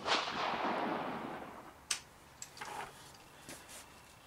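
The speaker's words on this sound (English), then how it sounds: "I'm going to take 5 shots with these vintage 200 grain Sierra matches." Vintage 200-grain Sierra match rounds fired from an M1A rifle at a range, heard as distant sharp cracks spaced a second or so apart after a fading roar, faint and outdoors with no talking.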